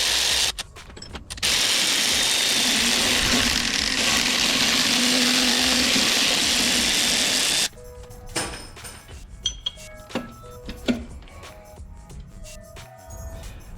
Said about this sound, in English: What I'm gonna do is remove the alternator